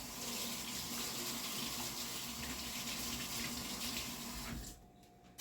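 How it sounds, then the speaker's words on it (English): Tap water running into a sink while hands are washed, a steady close splashing stream that cuts off abruptly near the end, leaving quiet. "I'm going to wash my hands now"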